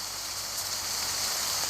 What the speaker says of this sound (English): The rain falls on the umbrella.